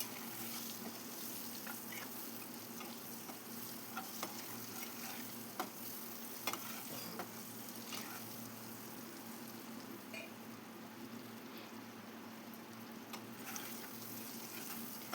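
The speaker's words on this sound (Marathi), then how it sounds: "भाजून घ्यायची आहेत हे अंडे यामध्ये छान मिक्स करून घ्यायचं" Eggs frying in a pan and being stirred to mix them in the oil, a steady soft sizzle with occasional utensil taps and scrapes, no voices.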